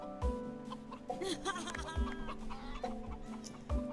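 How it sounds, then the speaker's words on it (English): Chickens cluck repeatedly in The Sims 3, several distinct fowl calls popping up in bursts at close range over a backdrop of game music, with a little laughter mixed in. "So I can literally just talk to chickens."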